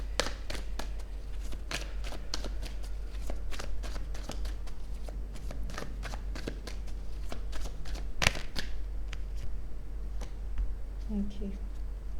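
Tarot cards are shuffled with quick riffling flicks and then laid down, a rapid run of crisp card snaps close by that slows toward the end, all beneath a woman's steady speech.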